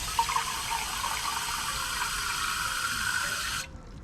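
Water pours steadily into a plant container, a close, continuous splashing gush that lasts about three and a half seconds before stopping abruptly.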